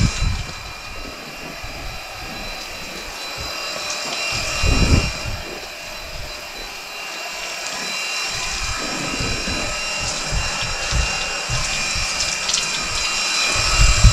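A DeWalt power cleaner sprays water drawn straight from a lake, with soap added, outdoors. Its motor and pump make a steady, close hiss and drone that swells briefly and keeps going without a break.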